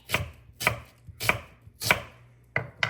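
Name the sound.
knife slicing onions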